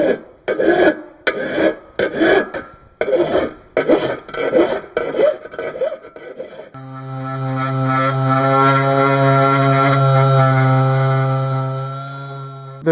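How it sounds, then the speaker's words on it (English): A strip of aluminum being shaped for a gauge bezel: close, rhythmic rasping file strokes with short pauses, then a steady droning machine tone that holds to the end. "I'm shaping this strip of aluminum to the bottom of the gauge bezel here"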